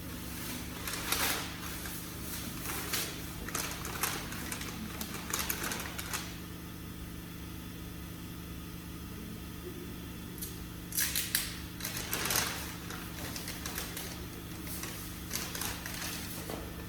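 Strips of masking tape are torn and pressed onto car parts during prep for a repaint, giving bursts of crackly ripping and rustling over a steady low hum, with a quiet stretch in the middle.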